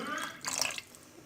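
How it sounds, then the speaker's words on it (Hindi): A small splash of water is poured into a pan of kofta curry made with yogurt and garam masala, giving a brief close, soft gurgle with no talk. "थोड़ा पानी डालेंगे"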